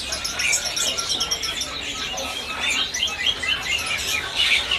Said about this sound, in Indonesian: Kalau ini buat stok cucak hijau, teman-teman.